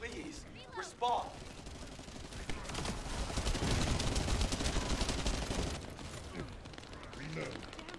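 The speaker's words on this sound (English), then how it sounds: "There should be a security device in front of the door. Shooting it should do the trick." Sustained rapid gunfire in The First Descendant as a security device in front of a door is shot, a dense continuous burst of shots in the middle of the stretch, with a voice speaking over parts of it.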